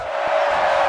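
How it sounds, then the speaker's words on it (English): Boxing arena crowd roaring during a fight, a dense, steady wash of cheering and shouting that holds at a constant loud level through the short moment. "The crowd's going wild."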